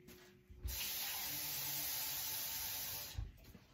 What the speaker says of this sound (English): Let me put 1 more cup of water.